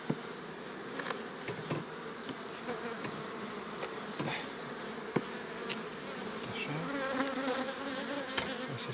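Honey bees buzzing around hive frames as a beekeeper works an apiary, a dense continuous drone of many insects close by, with scattered clicks and knocks from handling the frames.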